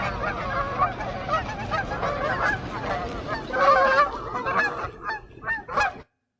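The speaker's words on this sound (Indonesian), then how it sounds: "Apakah saudara-saudara bisa mendengar suara dari burung-burung ini?" A flock of geese honks in flight, a dense overlapping chorus of nasal calls that carries on steadily and then thins into a few scattered honks before stopping.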